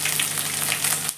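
Oil sizzling steadily in a pan with ginger garlic paste, kalpasi and star anise, frying briefly as the base for prawn rice; the hiss is close and continuous, with no talking.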